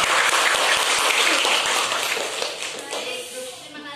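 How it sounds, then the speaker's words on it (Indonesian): Close, loud applause fills a room for a presenting group after a classroom presentation, with dense clapping that fades toward the end. "Oke, tepuk tangan buat kelompok."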